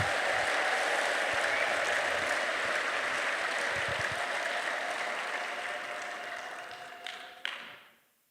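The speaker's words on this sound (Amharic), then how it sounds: "ከገባችሁ ሙሉ ጭብጨባ፣ እግራችሁም ያጨብጭብ።" A church congregation applauds during a pastor's sermon in a sustained wash of many hands clapping. The applause holds steady, then tapers off and fades out at the end.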